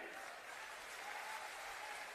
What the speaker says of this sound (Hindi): बस आपकी तालियां बजती रहें।